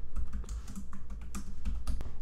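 Keys on a computer keyboard clatter in a quick, uneven run of close clicks while data is typed into an Excel entry form, with no voices present.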